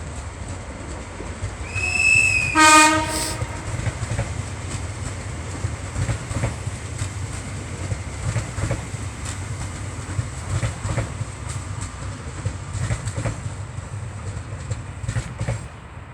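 A Cívia train on the Transpirinenc line near Ripoll rumbles past with steady clickety-clack of wheels over rail joints, after a short two-tone horn blast near the start, continuing as a loud sustained roll with occasional squeals.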